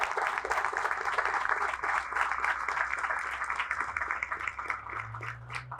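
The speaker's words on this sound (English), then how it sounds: "Let's give Danny Rezko another round of applause." A crowd applauds at a downtown Aurora apartment development event, a dense patter of many hands clapping at moderate distance, easing slightly toward the end as a low hum creeps in.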